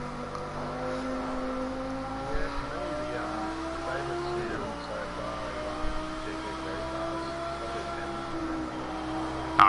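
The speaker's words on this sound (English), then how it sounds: "I do like the sound of the Audi," An Audi race car in a racing video game drones steadily at high revs with rising engine tones and occasional shifts. A player talks briefly over the sustained engine noise.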